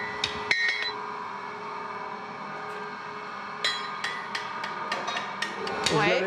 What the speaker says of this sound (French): Les coups de marteau sont plus légers quand même.